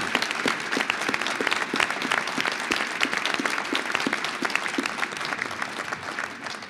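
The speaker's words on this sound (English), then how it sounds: "Let's give them another round of applause" Sustained audience applause for two high school debate competitors at a national championship debate, dense steady clapping from a large crowd filling the room at an even level throughout, with no voices over it.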